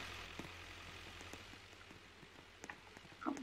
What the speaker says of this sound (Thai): หลบฝนแป๊บ